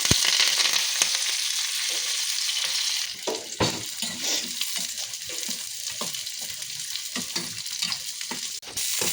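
Onions and curry leaves sizzle loudly and steadily in a hot mustard-seed and cumin tempering, with intermittent scraping and stirring from a spoon close by.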